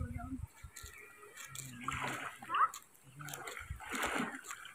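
Children splash in a pond while bathing, with bursts of water slapping and sloshing close by, scattered among voices talking over the activity.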